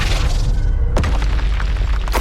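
An Incendio fire spell blasts in Hogwarts Legacy, a sharp booming burst near the midpoint over a dense rumbling game soundscape, with a second smaller impact just after.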